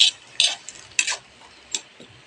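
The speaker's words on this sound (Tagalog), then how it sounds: "Tapos, halo-haluin." Utensil stirring food with soy sauce in a pan, giving a few sharp scraping taps spaced out over a couple of seconds, close and fairly loud with quiet gaps between.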